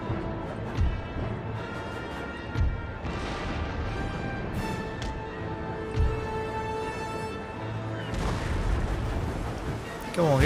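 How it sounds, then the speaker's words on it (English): Warship cannons firing a point-blank broadside in a Napoleon: Total War naval battle, with several heavy booms spaced a few seconds apart over a dense, rumbling battle background. "Point blank broadside into him."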